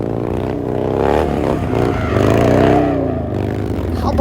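A Harley-Davidson motorcycle engine during stunt riding such as drifting and wheelies, a loud continuous rumble that rises and falls in revs, with scraping clatter underneath and no talking.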